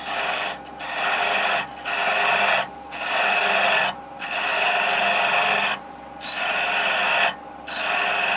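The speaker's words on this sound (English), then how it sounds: "Going to just get that sanded up and then get the finish applied like before." Sanding a wooden lidded box by hand, loud steady scraping strokes in long even passes of one to two seconds, separated by brief pauses, close and alone without talk.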